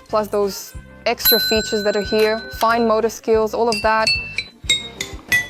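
Small bells on a children's busy cube toy ring in bright, tinkling jingles, overlapped by a person talking close by.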